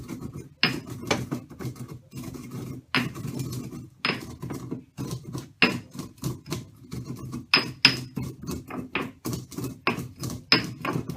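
Warm, freshly dry-roasted spices are ground by hand with a traditional pounding tool, giving a quiet series of irregular knocks, scrapes and grinding thuds close by.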